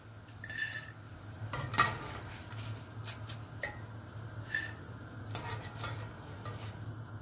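Boondi droplets fry crisply in hot oil, a soft continuous sizzle broken by scattered sharp crackles and light clinks of a spoon or ladle against the pan, with no voices.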